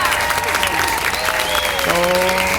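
A crowd applauds at an event honoring a municipality in Negros Oriental, a sustained, dense clatter of clapping with voices and a sung or spoken tone running through it.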